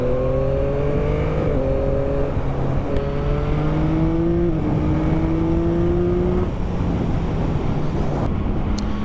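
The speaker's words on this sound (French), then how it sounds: "Il y a une belle sonorisation avec le pot d'origine. C'est normal, tu es sur du 3 cylindres." A 2021 Yamaha MT-09 SP three-cylinder motorcycle on its stock exhaust, a loud, close engine drone rising in pitch through several gear changes under heavy wind noise, no talking.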